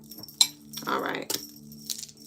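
Small metal charms drop and clink briefly, a light jangling scatter near the mic with a voice murmuring around it.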